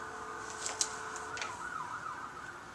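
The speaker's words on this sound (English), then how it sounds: "pay no attention to the trains and the sirens in the background" A faint siren wails somewhere in the distance, rising and falling beneath steady background noise, with no voices.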